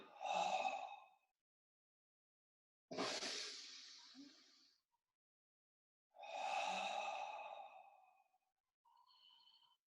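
Slow, deep breaths during an abdominal breathing exercise, drawn in through the nose and pushed out through the mouth: three long, close, airy breaths with silent pauses between them, then a softer fourth that starts near the end.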